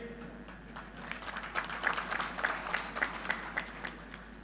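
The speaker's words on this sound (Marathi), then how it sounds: "ज्यांच्या आगमनामुळं आपण सर्वांनी खूप जोरदार टाळ्या वाजवल्या ते आदरणीय दिलीप रत्नाई दत्तात्रय मोहिते पाट" A crowd at a political rally in Junnar claps steadily for several seconds, building to a dense, moderately loud applause before easing slightly.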